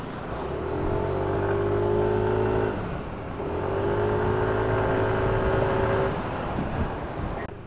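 A vehicle accelerating to overtake on a mountain road in Mindoro, its engine rising steadily in pitch twice with a brief dip between, loud and close over continuous road rumble.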